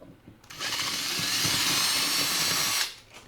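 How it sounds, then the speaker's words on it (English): A power drill bores a 3/16 bit through metal on an Air Venturi Avenger .25 air rifle during a modification, a steady loud whine held for over two seconds before it stops. "when you drill like that, again, you want to make sure your drill bit is perpendicular"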